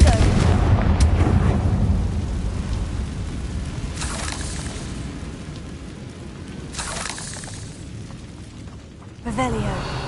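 Confringo spell blasts from the video game Hogwarts Legacy, a loud rumbling burst followed by further booming impacts across the span, with a sharp renewed blast near the end and game voices talking in places.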